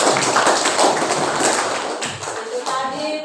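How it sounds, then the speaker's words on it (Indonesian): A classroom of students claps their hands together in a dense, fast patter of overlapping slaps, loud and close, fading slightly near the end with a few voices mixed in. "Ya, kasih tepuk tangan dulu."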